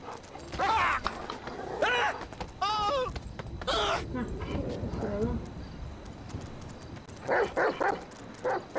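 A rottweiler and a white pit bull bark, yip and whimper in bursts as they fight in the video game GTA V, with clopping steps and someone talking around the animal noise.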